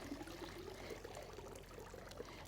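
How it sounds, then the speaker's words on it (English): Water drains and trickles out of a cordless robotic pool cleaner lifted from a pool, a faint, steady dribbling stream throughout with no voices. "And we'll drain all the water out of it."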